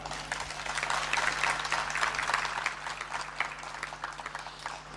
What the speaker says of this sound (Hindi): ऐसे ताली मारनी चाहिए।